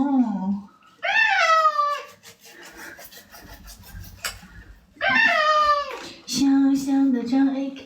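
A cat meows loudly and repeatedly while being bathed, two long drawn-out yowls with rubbing and splashing sounds between them, and a person talks soothingly in between.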